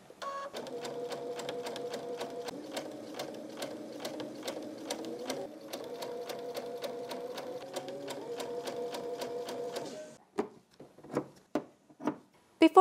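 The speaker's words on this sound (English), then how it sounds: "I'm going to now stitch on the marked diagonal lines" A sewing machine stitches along marked diagonal lines on a quilt-as-you-go tulip block, running in a fast, even rhythm for about ten seconds before stopping, followed by a few separate mechanical clunks.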